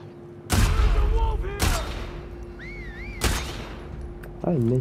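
Loud, close gunshots in The Last of Us Part II, three sharp blasts spaced about a second apart, each with a ringing tail, over a steady hum with warbling tones between shots.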